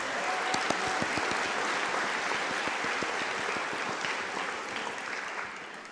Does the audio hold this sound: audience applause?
yes